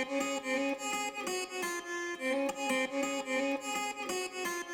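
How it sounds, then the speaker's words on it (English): Bright, upbeat guitar part doubled with a second amplified take, strummed and picked in a bouncy, steady rhythm with clear repeating chord accents and no talking. "I called it the happy-go-lucky guitar"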